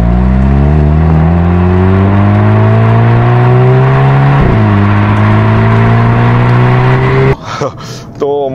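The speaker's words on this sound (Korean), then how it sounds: "듀얼 싱글 팀 머플러에서 팝콘 소리도 들리고요" A Hyundai Kona N pulls hard with its engine rising loud and close through one gear change, then crackles with sharp pops from its dual single-tip mufflers as the revs drop at the end.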